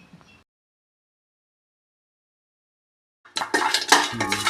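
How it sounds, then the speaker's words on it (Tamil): Broken pieces of dried turmeric root dry-roasting in a pan for homemade sambar powder, heard as a dense burst of clattering, rattling and scraping that starts abruptly after a long near-silent stretch, close and fairly loud. "மஞ்சக்கட்டையை நன்றாக உடைத்து பிறகு வறுக்க வேண்டும்"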